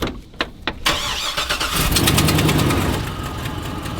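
A Hummer engine, fitted to a pontoon boat, starting up and settling into a loud, close, rough idle with a steady rapid ticking running under the motor's drone.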